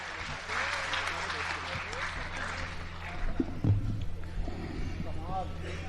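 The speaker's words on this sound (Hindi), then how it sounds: "आकाश भर तालियां बजा करके उनका स्वागत करें" An audience at a poetry gathering applauds to welcome a poet to the dais, a steady moderate wash of clapping with a hum underneath and voices talking over it throughout.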